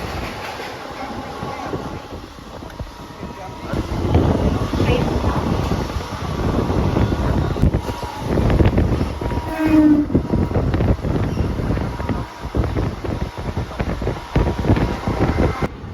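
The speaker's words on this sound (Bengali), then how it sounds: "আমাদের আবার সেই কৃষ্ণনগর লোকালটা চলে এসছে" A Krishnanagar local train rolls in at Dum Dum station on the Sealdah line. It gives a steady loud rumble of wheels and carriages, with a horn blast around the middle and a busy platform around it.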